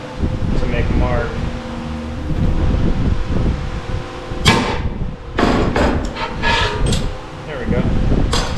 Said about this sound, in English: then I'll use a transfer punch that's the exact size of the hole here